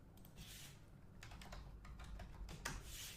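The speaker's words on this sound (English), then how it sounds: "I'm going to type in" Typing on a computer keyboard at a desk, a quick string of soft clicking keystrokes in short bursts over a low background hum, close and quiet.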